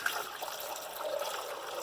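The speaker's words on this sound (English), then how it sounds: "put some water in here" Water pours into a pot of apples being cooked down for applesauce, a steady soft trickle and splash heard up close with no talk.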